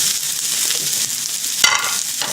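Beef sirloin and vegetables sizzle and hiss in a hot pan while being stirred, a dense continuous fry with a sharp scrape of the utensil near the end.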